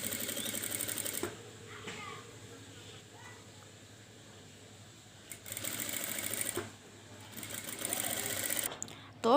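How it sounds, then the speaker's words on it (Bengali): A sewing machine stitches a zipper onto a dress in rapid, steady bursts, running for a few seconds, pausing, then starting again, close and clear. "তো আমরা এই পাশটাও সেম আমরা ওইভাবেই সেলাই করে নিব।"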